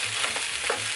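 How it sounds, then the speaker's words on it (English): Chorizo frying in a hot pan gives off a steady crackling sizzle, with brief stirring scrapes, close and alone for about a second. "add in the onion while the chorizo is still cooking"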